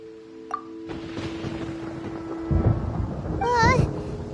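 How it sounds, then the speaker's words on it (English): Rumbling thunder in a Genshin Impact storm, a broad low roll building from the midpoint and swelling louder toward the end, with game music tones and a brief rising chime layered above. "Paimon hears thunder!"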